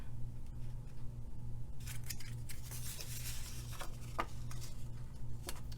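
Paper snips poke a hole through card stock, giving scattered small clicks and snips over a steady low hum of room noise.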